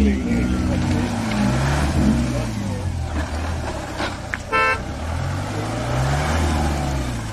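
A Mahindra Thar's engine drones and revs low while reversing in mud off-road, a continuous rumble with rising and falling pitch; voices talk over it and a short horn-like toot cuts in briefly.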